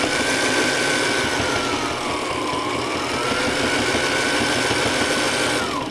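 A Sailrite Ultrafeed LS sewing machine stitches fabric with a steady, loud mechanical whir and fast rhythmic chatter, running continuously up close.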